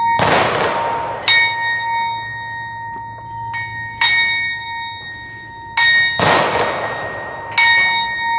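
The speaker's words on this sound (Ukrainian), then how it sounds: "пролунав традиційний дзвін пам'яті за полеглими захисниками та захисницями" A large memorial bell in Ivano-Frankivsk, Ukraine, tolls slowly and repeatedly for fallen soldiers, each deep, resonant strike ringing out and fading into a long shimmering hum before the next.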